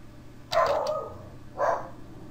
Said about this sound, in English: just my dogs screaming